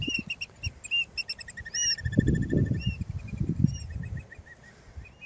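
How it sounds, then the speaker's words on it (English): Birds chirp and whistle outdoors near the Atlantic City Convention Center, with repeated short high tweets scattered across the moment over low background rumble and traffic-like noise. "You hear those birds?"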